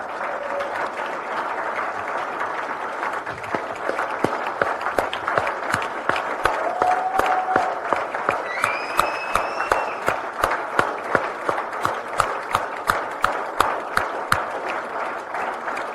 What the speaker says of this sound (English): I ask you all to recognize them with a huge round of applause.